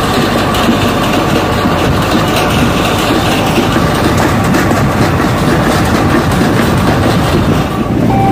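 A lawn care trailer rolling on a blown-out tire, heard as a steady, loud, dense rumble and rattle of road and wheel noise that continues unbroken throughout.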